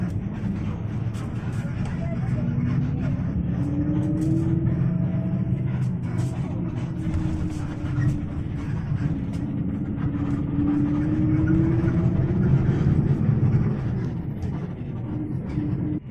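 A Primajasa economy-class bus on the Bekasi–Singaparna route travels from Cikopo toward Purwakarta on the non-toll road, its engine a steady, close, low rumble inside the cabin, with tones rising and falling as it shifts and accelerates.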